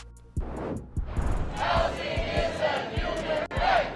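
At a city meeting, supporters of a renters' protection ordinance form a dense, noisy crowd, with overlapping shouts and chanting voices, sharp rhythmic thumps and cheers rising and falling together at close range.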